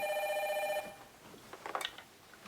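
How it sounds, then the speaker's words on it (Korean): A home telephone bell rings in a short, bright burst for under a second, then cuts off, leaving a quiet room with faint rustling. "갑자기 집 전화벨이 막 시끄럽게 울렸어요."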